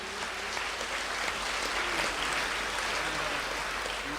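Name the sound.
applause, congregation clapping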